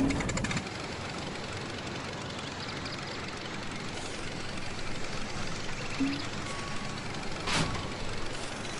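A combine harvester engine drives steadily in the Farmer's Dynasty video game, a constant broadband rumble and drone that stays even throughout with no voices.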